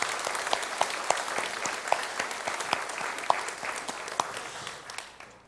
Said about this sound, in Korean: 우리 모든 어르신들을 위해서 감사하는 마음으로 힘찬 박수를 보내드리겠습니다